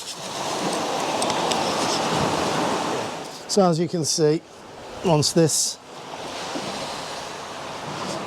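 Ocean surf washes steadily on a shoreline with a broad rushing roar and some wind noise, dropping under a man's speech in the middle before the waves swell back.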